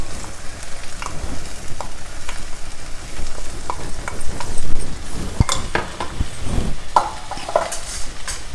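Ground masala cooks in a pan and is stirred and scraped with a utensil, making uneven clinks and scuffs over a low, steady sizzle. The sound is close, with no voices.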